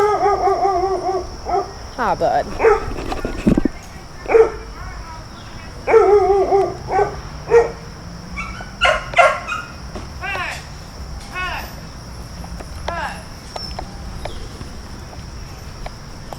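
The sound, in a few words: street dog barking and whimpering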